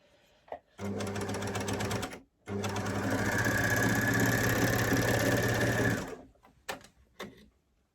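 A sewing machine stitches a knit T-shirt shoulder seam in two close bursts, a steady whirring hum of about a second and a half, then a longer run of about three and a half seconds, with soft handling clicks around them.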